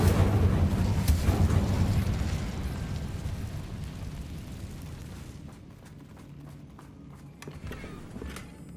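An Incendio fire spell cast in the video game Hogwarts Legacy, a loud roaring, crackling burst that fades away over several seconds, followed by quieter rumbling and small pops.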